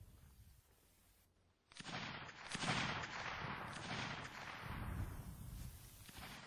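Gunfire erupts in the Men of Valor video game: a sudden, dense stream of crackling shots and volleys starts after a quieter opening and rolls on loudly with no talk over it.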